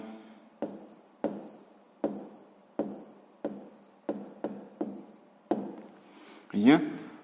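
Someone writes out a sixth-grade math solution: a steady series of about ten sharp, scratchy strokes and taps, evenly spaced and close by, ending in a louder, longer burst of sound.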